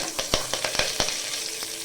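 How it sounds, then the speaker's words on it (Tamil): Whole spices, cinnamon, cloves and bay leaf with a little fennel and curry leaves, sizzle in hot oil in a pressure cooker. The frying hiss is steady and close, broken by sharp crackling pops throughout, with no talking. "எண்ணெய் காஞ்சப்போ பட்டை லவங்கம் பிரிஞ்சி இல்லாத போட்டுடலாம்"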